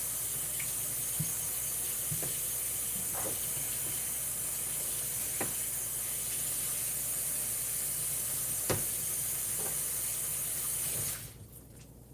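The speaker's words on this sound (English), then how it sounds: "So we're putting our potatoes in the pan. Get those nice and hot." Potatoes sizzle in a hot pan with a steady faint hiss and occasional soft pops and clicks, continuing alone until it suddenly drops away near the end.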